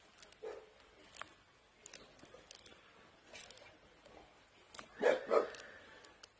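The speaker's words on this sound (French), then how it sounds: "il peut pas se taire ce chien" A dog barks in short bursts from another room of a house, with a quiet dining-room setting and a pair of louder, close barks near the end after scattered faint yips.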